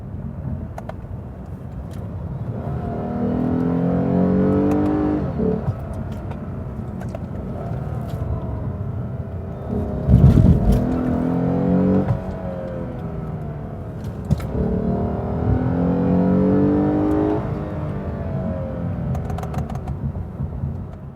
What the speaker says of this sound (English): you can kind of hear the engine revs are up a little bit